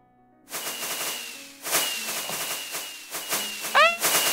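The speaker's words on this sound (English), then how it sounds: "Spawn a million fireworks." Many fireworks burst in a video game inside a subway-station setting, several sharp crackling explosions following one another at irregular intervals, with whistling rising tones near the end.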